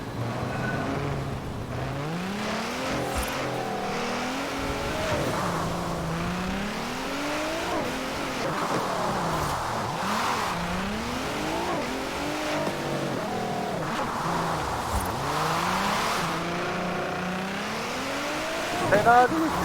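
Racing car in Forza Horizon 4 revving and accelerating through gear changes, engine pitch sweeping up and down repeatedly with occasional tyre noise, loud and continuous, with a player talking faintly underneath.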